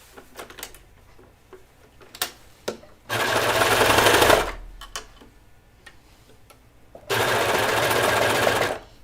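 A sewing machine stitches the cuff of an Annie Cardigan in two steady, loud bursts of rapid whirring, separated by quieter handling clicks and taps.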